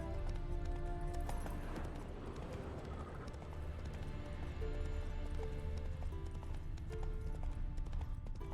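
Hooves of the horse Roach in The Witcher 3, a steady rhythmic clip-clop of walking hoofbeats running throughout at moderate level over a game ambience, with no speech.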